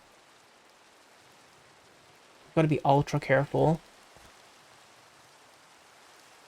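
Steady hiss of rain falling in Minecraft runs throughout, soft and even, with a brief stretch of someone talking over it partway through.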